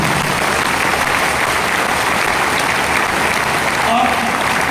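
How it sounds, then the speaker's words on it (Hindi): Audience at a network marketing business seminar applauding steadily and densely throughout, a sustained wash of clapping with a voice faintly audible beneath it. "तो हम एक बार इन लोगों के लिए दिल खोल के ताली बजाएंगे।"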